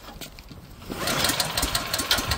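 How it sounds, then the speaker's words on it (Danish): The engine of an RC6813TE machine starts after a pull. It builds from quiet rattles into a close, loud, steady chugging run with rapid pulses, and no one speaks. "Så starter motoren."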